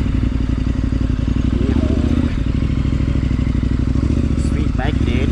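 A KTM 1090 adventure motorcycle rides off-road with a steady, loud engine drone and some clatter, while a rider's voice is heard over it.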